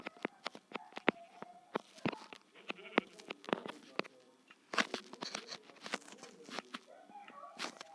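Minecraft sheep bleat several times amid rapid clicking and crunching noises, with a faint voice in the background.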